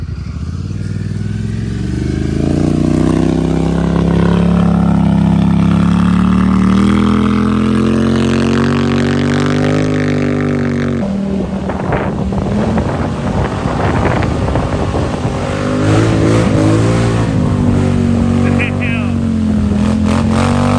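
A Polaris Scrambler 1000 ATV revs hard through deep mud, its engine note climbing and falling in throttle bursts, close and loud, with wind buffeting and people talking over it.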